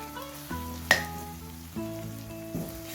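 Gram flour warms in oil for a Kerala-style chicken dish, a soft sizzle heard with a few spoon knocks and scrapes against the pan, plus a faint low tonal hum from the background.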